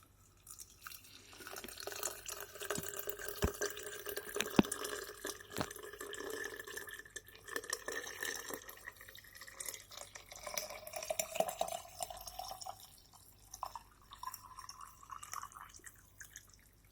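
Freshly boiled water from a kettle pours and drips into a home-poured candle glass, with quiet trickling, scattered distinct drips and soft clinks over nearly seventeen seconds, faint and close.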